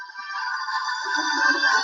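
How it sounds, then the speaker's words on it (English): A phone ringtone plays a continuous electronic melody, steady and moderately loud, with no talking over it. "It's almost done ringing"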